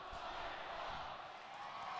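A full crowd at a college hockey game between Miami RedHawks and Ferris State Bulldogs fills the arena with steady, broad cheering and roar, heard at a distance with no single voice standing out.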